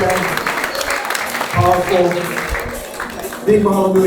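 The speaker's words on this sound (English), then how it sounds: "make some noise for Darren Fryer, everybody" Live audience applause for speaker Darren Fryer at a business presentation: a broad, steady wash of clapping and cheering that swells near the end, with someone talking loudly over it throughout.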